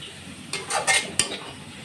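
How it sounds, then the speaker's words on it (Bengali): A utensil scrapes and clatters in a pan of fried onions (beresta) in hot oil, giving a few short bursts of stirring noise close up over a faint background hiss. "এই গরম তেলে আপনি একটু নাড়াচাড়া করলে কালারটা একদম পারফেক্ট আসবে।"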